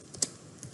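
A few crisp keystrokes tapped on a computer keyboard while entering code, with one sharper click standing out among the light, close taps and no talking.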